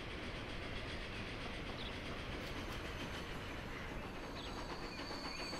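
Trains run in the video game Transport Fever 2, giving a constant, moderately quiet rail rumble with clickety-clack texture and a brief faint wheel squeal. No one speaks.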